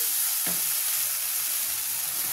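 Boiled masoor and moong dal hit a pan of fried spices, giving a loud, steady sizzle and hiss with a brief splashing burst near the start, and no voices.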